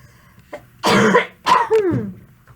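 A person coughing and clearing their throat up close, two harsh bursts followed by a rasping tail, loud and without talk.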